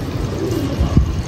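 Low, soft coos from a red-eyed aseel pigeon surface briefly amid steady outdoor background noise, one fuller coo near the end, with no talking.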